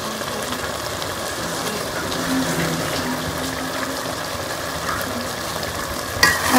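A pot of rice and water for beef pulao bubbles and simmers with a steady soft hiss and crackle, close by, with a faint clink near the end.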